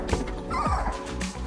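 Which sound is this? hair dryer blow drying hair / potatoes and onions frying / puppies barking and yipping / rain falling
puppies barking and yipping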